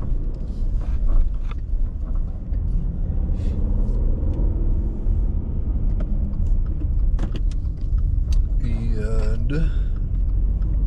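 A car pulling back onto a Montana highway at night after a gas stop, a steady low engine and road rumble that builds and continues throughout, with a few clicks and a short voice near the end.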